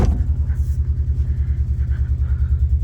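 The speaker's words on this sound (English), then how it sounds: "Idling fine." A used car bought cheaply, with a known exhaust problem, idles steadily nearby, giving off a deep, throbbing low rumble with an even pulsing rhythm and no speech.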